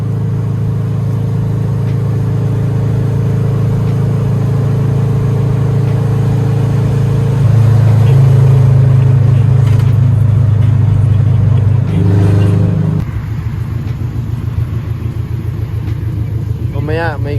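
A Honda Civic's engine hums steadily from inside the car while driving on a long trip, a loud low drone that swells briefly, with someone talking over it.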